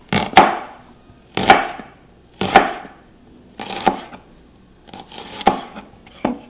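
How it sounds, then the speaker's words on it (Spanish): A knife cuts an onion into thick half rings on a board, giving six sharp, close chops spaced about a second apart, each with a short crunch and then a pause, with no voices. "vamos a utilizar un pedazo de cebolla igualmente en medias rodajas"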